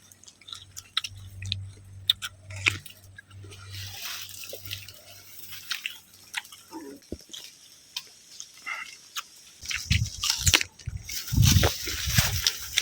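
Close, wet chewing and crunching in irregular bursts, with a brief murmur of a voice partway through.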